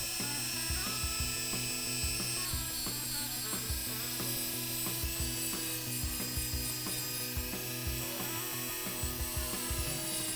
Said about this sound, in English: To get it off, we're gonna be using a Dremel with a metal drill bit.